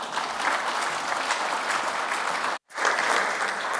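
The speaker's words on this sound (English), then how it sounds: "A round of applause for Tim, please." Audience applause at a conference talk on digital badges, a steady dense clapping that fills the room, breaks off sharply for a moment near the end, then resumes at full strength.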